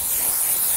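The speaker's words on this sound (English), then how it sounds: "starting with our pre-tape spray," Pre-tape spray hisses steadily from a can onto a rugby player's shoulder, a loud, close, continuous spray with no talking.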